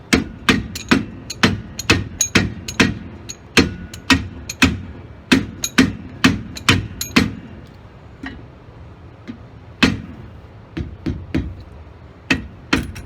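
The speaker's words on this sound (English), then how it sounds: "First we'll be gentle with a rubber mallet." A rubber mallet strikes leaf spring bolts during a leaf spring install, delivering a long run of loud, close, evenly spaced blows that thin out into scattered knocks toward the end.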